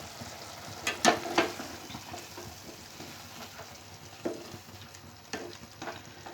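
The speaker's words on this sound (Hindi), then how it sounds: "अब मैं इसको अच्छे से चला दूंगी।" Spinach and tomato saag with salt, Sindhi-style palak, stirred in a kadhai over heat, a soft continuous sizzle broken by several sharp scraping clinks of the spoon, close and without talking.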